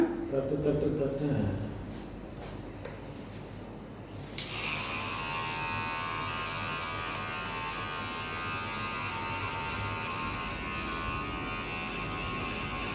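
A small electric clipper trims a pet's fur during grooming, switching on after a few seconds and then humming steadily at close range, with a person speaking softly at the start.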